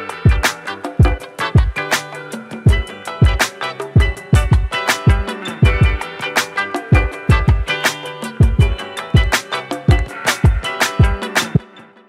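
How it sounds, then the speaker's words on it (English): Hip-hop beat with a punchy kick drum playing alongside the other parts: deep, loud kicks hit in a steady syncopated pattern over layered percussion and melodic tones, with no voices. "The next sound we have is the kick, and this is how that sounds together."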